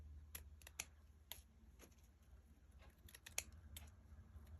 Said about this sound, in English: these scissors have gotten dull